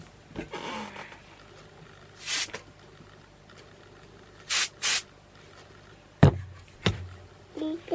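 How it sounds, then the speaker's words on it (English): A spray bottle squirts at a cat in a few short, sharp hissing bursts, with one single spritz and then a quick double pump, close by over a quiet room with faint background clatter. "I just spray it and she takes off"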